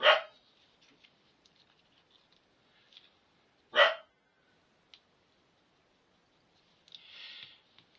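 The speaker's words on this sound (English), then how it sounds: "there goes the dog again" A dog barks indoors, two sharp, fairly faint barks several seconds apart with quiet rustling between.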